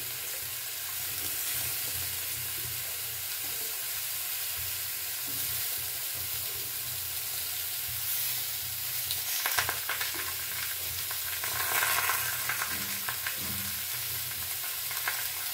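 Onions and chilli frying in oil in a pan, village-style home cooking: a continuous close sizzle and hiss that swells mid-way, with occasional stirring scrapes and crackles.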